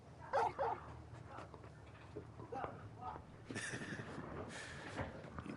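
Torgal, a large dog in Final Fantasy 16, whimpers in a couple of short high whines, then gives soft yips and barks, moderately close, with talking and game ambience around it.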